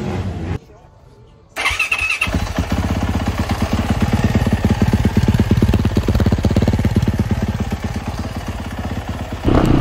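A motorcycle that has been giving trouble with its power wire fires up after a brief quiet gap and settles into a loud, close, rhythmic running beat that holds steady for several seconds.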